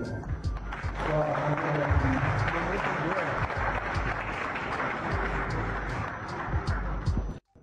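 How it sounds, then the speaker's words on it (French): Applause from an audience at a school event, broad clapping sustained for several seconds with voices and crowd noise mixed in, stopping abruptly at the end. "je voudrais qu'on applaudisse"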